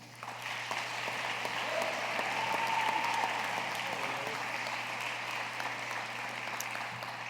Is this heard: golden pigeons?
no